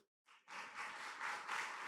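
After a brief silence, a church congregation breaks into steady clapping that builds and holds, fairly distant and even.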